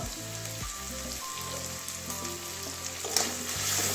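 Coriander and turmeric powders sautéed in a pan, giving a steady close frying sizzle under a low humming tone, with a few faint scrapes and a louder clink near the end.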